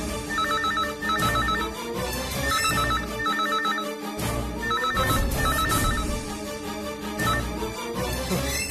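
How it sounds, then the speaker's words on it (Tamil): A telephone rings in a Tamil TV serial scene, its electronic ringtone repeating in regular bursts over background music throughout. "ஐயோ, போன் அடிக்குது."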